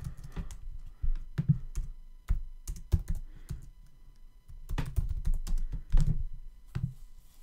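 An email is typed on a computer keyboard in quick clusters of close, clicky keystrokes, with short pauses between bursts and some heavier thunks, and no voices.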